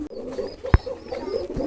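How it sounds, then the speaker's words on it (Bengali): Pigeons at a breeding farm coo close by in soft, low, repeated calls, with one brief louder thump partway through and a steady faint background murmur. "এই যে কবুতর"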